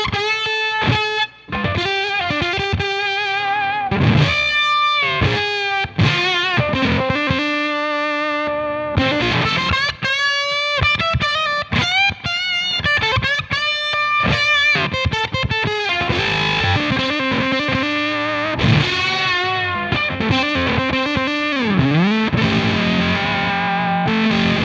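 Electric guitar through a GGG TOCT Octavia clone fuzz pedal, with fuzz and pre-gain slightly backed off, plays a continuous distorted, octave-rich melodic passage with bends and chords, loud and alone.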